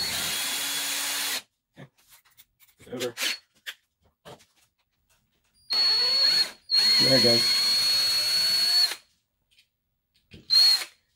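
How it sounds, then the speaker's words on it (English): A DeWalt power drill with a number 2 bit drills out a stuck screw in loud bursts of whining motor, separated by pauses in which a person speaks briefly. "I'm going to go to drill size, the drill bit number 2, and I'm going to drill it out again."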